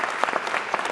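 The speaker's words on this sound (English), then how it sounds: "let's give Diana a round of applause" Brief applause at a spring convocation ceremony, a crowd clapping steadily with a few louder individual claps standing out, heard alone and close for about a second.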